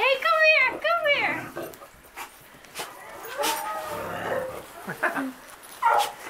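Alaskan Malamute puppies yipping and whimpering, high-pitched bursts up close at the start, then scattered softer whines and yelps, mixed with people talking.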